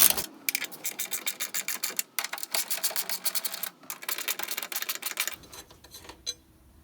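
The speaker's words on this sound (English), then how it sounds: "Now sister's going to loosen the bolt and the nut on the battery bracket that holds the battery down." A 12 mm bolt and nut on a car's battery hold-down bracket being loosened, a close run of quick, sharp ratcheting clicks in bursts with short pauses, ending in quiet.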